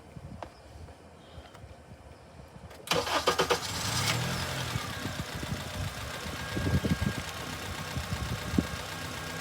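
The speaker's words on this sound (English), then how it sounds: "let me get the car started" A Honda Accord, under test for its fuel pump circuit, cranks and catches after a quiet lead-in, then settles into a close, steady idle with some uneven knocking pulses.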